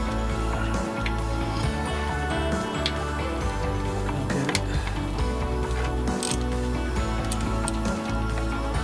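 A ratchet clicks rapidly and repeatedly while transmission pan bolts are loosened on a 2006 Ford F-150, close-up mechanical ratcheting in bursts with brief pauses between turns.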